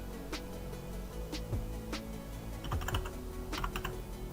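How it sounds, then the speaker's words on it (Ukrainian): Keystrokes on a computer keyboard while code is typed in Blender, a steady run of close, light clicks with irregular spacing and no talk. "тут ми пишемо решотка, відкриваємо дужки"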